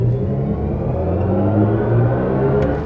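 A steady, low synthetic hum with layered tones swells gently as a BMW i5 M60 electric car drives, a smooth electronic drive sound responding to the driving, with no voices over it.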